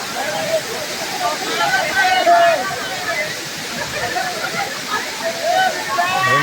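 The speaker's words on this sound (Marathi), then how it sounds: "सुंदर असा धबधबा." Forest waterfall near Bhiwandi crowded with Sunday visitors, pouring in a continuous loud rush while a babble of voices and nearby talk carry over it.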